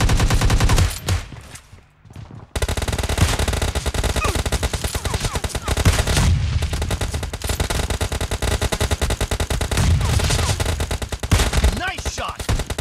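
Rapid, loud gunfire dominates a video game firefight featuring the Kar98 rifle, with sharp repeated shots in dense bursts and a brief lull near the start.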